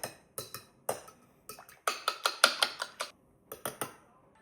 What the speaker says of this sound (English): We're just gonna mix up our egg.